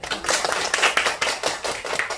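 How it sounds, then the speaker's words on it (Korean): A crowd applauds, with dense clapping that swells in uneven waves throughout. "다시 한번 박수"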